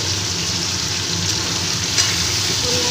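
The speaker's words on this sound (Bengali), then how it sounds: "গাঁটি কচুগুলো আর আলুটা ভালো করে ভেজে নেব" Diced taro and potato fry in hot oil left over from frying prawns, a loud, close, continuous sizzle with a faint clatter of stirring and no talk.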